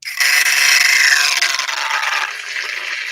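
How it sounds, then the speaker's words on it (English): A self-stirring coffee mug's small bottom motor spins with a loud, steady, rough whirring buzz. It starts abruptly, holds for about two seconds, then eases slightly while still running. "this coffee mug has a stir in the bottom of this, and it sounds like this"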